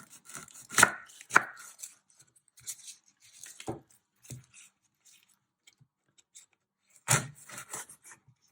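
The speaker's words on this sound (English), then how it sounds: "I've just chopped that end off" A sharp knife chops the ends off an onion on a cutting board, giving a few distinct crisp thuds spaced irregularly, with quieter small scrapes between them.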